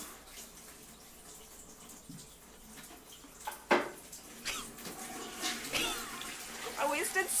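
Water running and splashing, a steady faint flow broken by louder sloshes and bursts toward the end, with voices talking over it.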